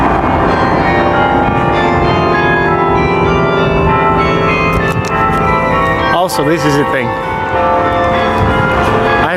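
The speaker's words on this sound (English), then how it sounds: "there's actually someone out playing on the big bells" Large church bells ring out as someone plays a tune on them, loud sustained overlapping tones filling the whole stretch, with a person talking briefly over the chiming partway through.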